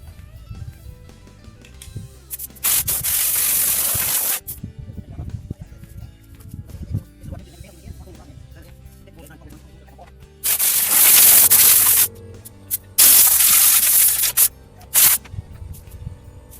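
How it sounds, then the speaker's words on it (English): Air compressor nozzle blowing debris out of the engine bay of a Holden Astra Bertone convertible left sitting ten years, in loud broadband bursts of about two seconds, then three more bursts later, with quieter workshop noise between. "Sorry about the compressor"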